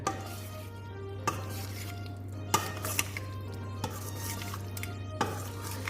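Paneer is stirred with ginger garlic paste in a metal pan for biriyani, a spoon scraping and clinking against the pan in steady strokes, with sharp knocks roughly every second and a low hum beneath, no talking.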